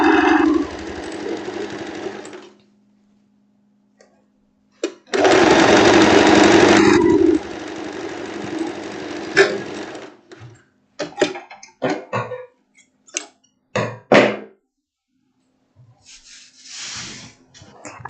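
A sewing machine stitches the back armhole seam of a boho maxi dress in two loud whirring bursts, close up, followed by clicks and handling noises.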